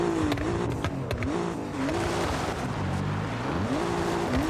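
Alfa Romeo Giulia GTAm with a 3-liter V6 engine in the Forza Horizon 6 video game, a steady engine drone with repeated rising revs and gear changes, moderately loud and continuous, no talking.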